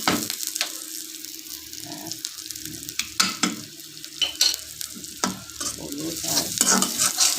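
Whole spices, five-spice mix and two dried red chillies sizzle and fry in a hot pan while being stirred, with steady crackle and repeated scraping strokes close by; a few words of speech come through briefly.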